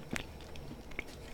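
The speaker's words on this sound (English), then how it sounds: "Sorry for all the chewing noises." Someone chews a Korova molasses cookie close to the microphone, producing a few soft crunchy bites and wet mouth clicks at irregular intervals against a quiet background.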